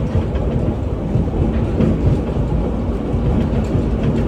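A Hawaiian Railway Society excursion train rolls along steadily, a dense continuous rumble of wheels and car rattle close by, with no voices.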